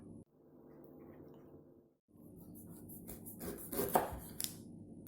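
A knife cuts the rough outer skin off jackfruit pieces in a home kitchen: a faint low scraping run, a pause, then closer rasping strokes and a few sharper cuts.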